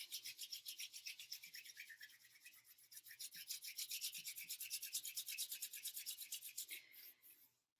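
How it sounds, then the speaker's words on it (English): Palms of the hands rubbing together in a steady back-and-forth rhythm for several seconds, a close, soft swishing friction that fades out at the end, with no voices. "bring the soles of your feet, palms of your hands together. Just begin to rub."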